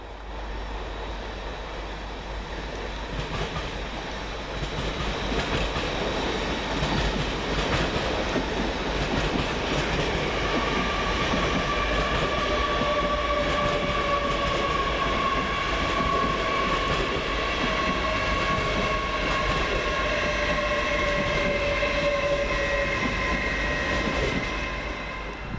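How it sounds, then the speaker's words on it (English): An LNER Class 800 train, unit 800-112, pulls into Peterborough station with a steady, loud rumble of wheels and engine drone, rising slightly as it nears and joined by a long high brake squeal. "Next LNER service to arrive is 800-112, arriving 5 minutes late"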